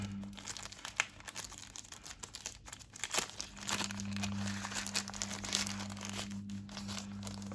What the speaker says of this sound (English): Let me take out the plastic.